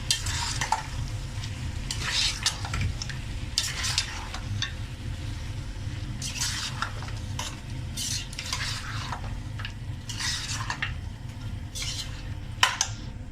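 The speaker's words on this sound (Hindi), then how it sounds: "2 से 3 मिनट आपके सामने फ्राई करती हूँ।" Mutton frying in a pan with whole green chillies, stirred steadily with a utensil that scrapes and knocks against the pot over a continuous sizzle, close up with no talking.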